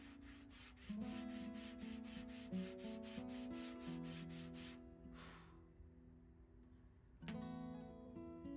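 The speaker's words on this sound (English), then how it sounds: "some rigorous hand sanding ensues, trying to round the walls and reduce the ring down" Quick, regular strokes of hand sanding on a wooden signet ring rasp back and forth, close and fairly quiet, with music playing underneath.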